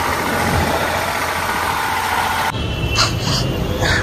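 A tractor engine idles loudly and steadily nearby, a constant mid-pitched rumble with a faint high whine joining in partway through.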